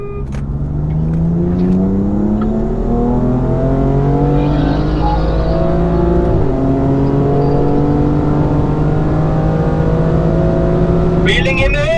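BMW M2 Competition and M3 Competition racing, heard as a loud in-car engine note climbing steadily through repeated gear upshifts, a strong continuous roar that fills the clip.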